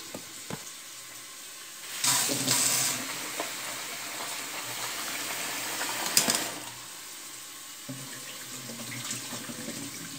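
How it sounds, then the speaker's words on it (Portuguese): Garlic and onion fry in a pan, giving a soft, steady sizzle that swells when stirred, with a few clinks and scrapes of the spoon and no talking. "Coloquei o alho e a cebola para fritar."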